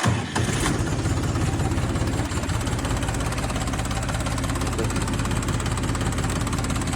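A small diesel engine of a Scout XT-244 mini tractor idles steadily and loudly close by, its low rhythmic chugging continuous after a brief start at the beginning.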